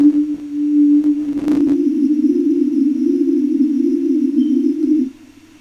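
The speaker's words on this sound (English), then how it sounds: "We can add some spin, which is kind of like a chorus effect to your reverb" A steady low sine-like tone run through Ableton's reverb with the spin chorus effect, wobbling gently in pitch with a brief clatter of clicks near the start, sustaining for several seconds before cutting off abruptly.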